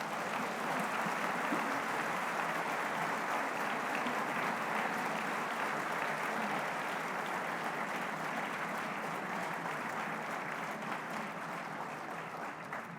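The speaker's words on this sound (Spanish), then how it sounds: "Ahora sí va el aplauso" Sustained, dense applause from an audience at a book launch, loud and steady for the full stretch with no talk over it, tapering only slightly toward the end.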